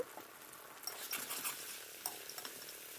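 Chili and cumin paste frying in a pan for a Bengali-style egg curry, with soft sizzling and intermittent stirring scrapes and clinks, moderately close and fairly quiet, no talking.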